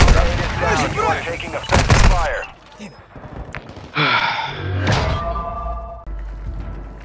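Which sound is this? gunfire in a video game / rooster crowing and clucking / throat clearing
gunfire in a video game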